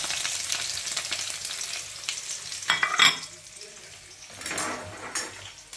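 Onion and ginger dropped into hot oil for tempering, frying with a steady sizzle, with stirring and a brief burst of louder crackle partway through, close up in a home kitchen.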